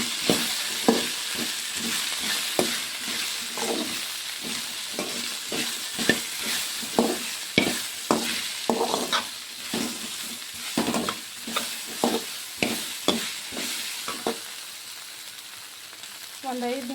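Stir-frying in oil in a pan, an ongoing sizzle punctuated by rhythmic scraping and tapping of a utensil, heard close up for many seconds.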